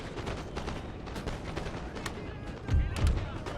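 An artillery barrage rumbles through a Napoleon: Total War battle as a continuous, distant spread of booming shots and thuds. A couple of heavier, closer impacts land near the end.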